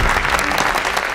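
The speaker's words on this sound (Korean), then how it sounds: "힘찬 박수로 구원 본부장님을 환영해 주시기 바랍니다" Applause welcoming a new director at a company inauguration ceremony, a dense burst of clapping from a crowd, loud and close.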